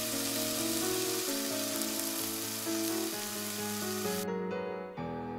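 A horror audio-drama effect of a hand frying: a dense, steady sizzle layered under sustained tonal music, cutting off sharply near the end.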